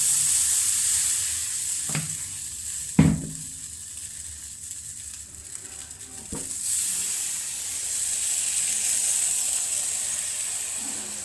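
Appam batter sizzling in a pan on the stove for a breakfast recipe, a steady soft hiss with a few sharp knocks of utensils against the pan.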